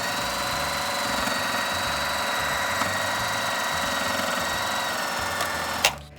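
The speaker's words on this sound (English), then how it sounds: "we're gonna sew this side together" Sewing machine stitching a fabric face mask hums and chatters in a steady rapid rhythm close to the mic, stopping abruptly with a clunk at the end.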